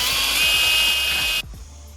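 A power drill bores a hole in the body of a Mitsubishi Lancer, giving off a steady, loud high whine with a ratcheting rattle until it stops abruptly, leaving a quiet hum.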